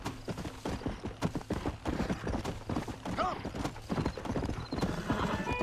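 Hooves pound rapidly as a horse gallops through the wilderness in Red Dead Redemption, a dense rhythmic clip-clop with a brief neigh midway, close and loud, while someone talks over it.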